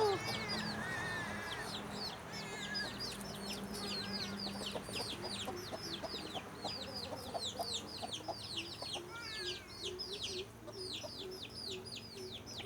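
A flock of black chickens in a coop, a rooster with hens and chicks, keeps up dense overlapping clucks and chirps throughout, fairly close and steady.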